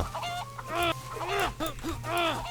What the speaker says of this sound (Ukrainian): О, курка. Ти мені надо.